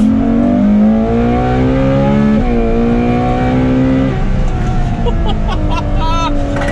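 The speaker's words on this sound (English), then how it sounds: "That is the sound of 771 naturally aspirated V12 horsepower." A loud naturally aspirated Ferrari F12 TDF V12 engine revs hard, pitch climbing through several gear changes before easing off, close and continuous.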